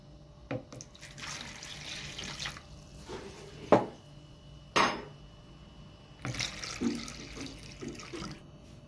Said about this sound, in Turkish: Bu ılık sütü ve ılık suyu döküyoruz.